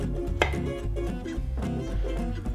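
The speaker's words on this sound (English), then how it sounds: "Now I'm just gonna chop up these tiny little onions" A knife chopping small homegrown onions on a cutting board, a quick series of crisp close taps in an irregular rhythm, with no talking.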